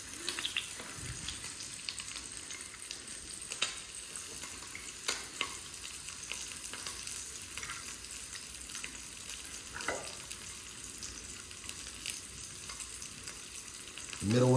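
Bacon sizzles in a pan, a steady crackling hiss with scattered pops that runs the whole length, with a louder scrape or clatter right at the end.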